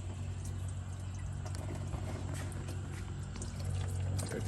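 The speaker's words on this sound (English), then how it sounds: "let it drain for a little bit" Dirty transmission fluid drains from a 2002 Trailblazer in a steady liquid trickle and patter, faint and continuous beneath a low background hum.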